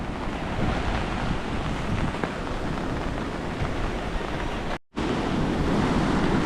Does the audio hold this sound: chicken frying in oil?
no